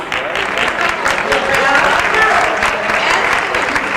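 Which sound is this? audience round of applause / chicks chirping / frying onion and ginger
audience round of applause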